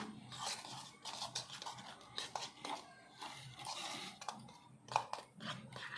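A spoon clinks and scrapes against a bowl while batter for Bengali chop muri is mixed with water, quick irregular taps and stirring near and fairly quiet, with some faint background noise.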